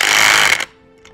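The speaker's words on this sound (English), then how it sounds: "we'll use the 9/16 wrenches or the 9/16 wrench in the drill to tighten these bolts" A power drill fitted with a 9/16 wrench socket drives bolts tight during assembly of a machine arm, giving one loud, harsh buzzing burst of about half a second before cutting off abruptly into near silence.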